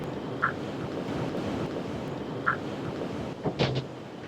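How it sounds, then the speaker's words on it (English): Wind gusts steadily across the open front deck of the Carnival Sunshine cruise ship, a continuous rushing roar with a few brief faint chirps and knocks on top. "I don't know if you can hear because of the wind"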